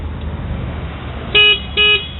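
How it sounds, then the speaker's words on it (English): Two short, bright honks from the horn of a Jawa Perak bobber motorcycle sound close by, the second slightly longer, over a low idling rumble. "Let's see how the horn sounds now."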